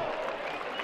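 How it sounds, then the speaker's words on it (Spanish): Audience applause at a Michoacán jaripeo rodeo, a brief steady wash of clapping from a crowd with some voices mixed in. "¡El aplauso a mi público!"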